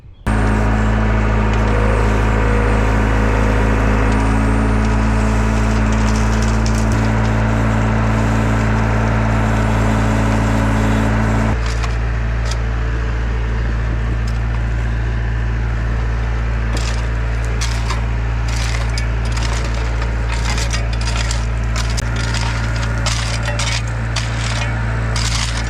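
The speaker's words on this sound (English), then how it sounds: "So this shouldn't be terrible to put the gravel in here." Gravel being put in, a continuous loud rattling and scraping of stones with a deep engine-like rumble underneath and sharper clattering bursts toward the end, no talking.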